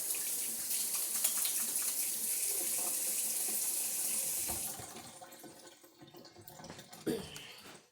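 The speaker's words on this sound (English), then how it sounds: "I'm going to wash my hands first" Kitchen tap runs in a steady, fairly loud stream for hand washing before cooking minestrone, then shuts off, leaving faint clatter and a brief knock.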